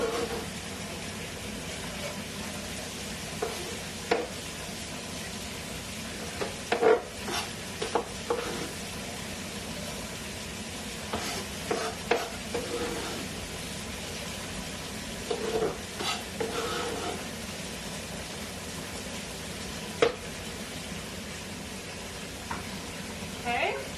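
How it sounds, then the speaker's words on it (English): Finely chopped onions sauté in a pan as the base for a ragù: a steady, soft sizzle with occasional scraping and stirring clicks, continuous and fairly quiet, with speech at times. "So we're sauteing our onions."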